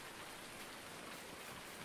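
Rain falls steadily in Farming Simulator 19 on PS4: an even, dense hiss of raindrops with no breaks and no speech.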